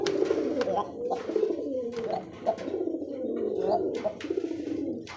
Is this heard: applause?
no